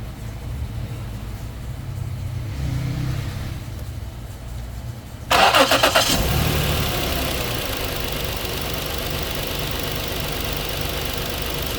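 A 2011 Ford Explorer engine cranks and catches about halfway through, then settles into a steady idle that runs to the end, with quiet background before the start and no talking.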